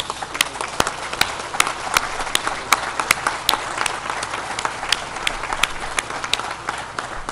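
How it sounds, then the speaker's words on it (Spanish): Crowd applauding at the inauguration of the Santa María dam in Sinaloa, a steady outdoor patter of clapping with sharper individual claps standing out, continuous for several seconds at moderate loudness. "a la dirección del ingeniero Cedri, al que yo le aplaudo."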